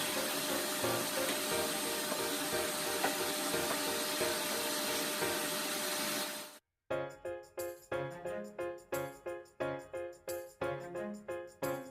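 A handheld suction vacuum runs steadily and loudly for about six and a half seconds while a basement cabinet is cleaned out, then cuts off, followed by a series of rhythmic knocks or bumps.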